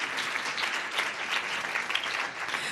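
A church congregation claps together during a Sunday worship meeting, producing dense, even applause that holds steady and fairly loud throughout.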